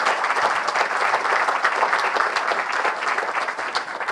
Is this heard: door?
no